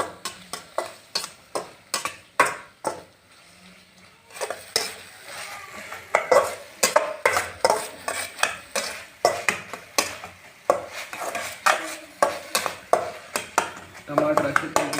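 Okra stirred into a tomato and onion masala in a pan, with repeated sharp scraping strokes of a spoon against the pot over a steady frying sizzle, close and fairly loud throughout.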